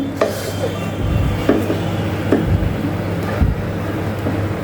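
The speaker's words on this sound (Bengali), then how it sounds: "এবার এটাকে একটু নাড়িয়ে চাড়িয়ে নিই" A spoon stirs Sylheti akhni polao, a rice pilaf in a pot, scraping and knocking in repeated dull strokes against a low steady background hum, close by and with no talking.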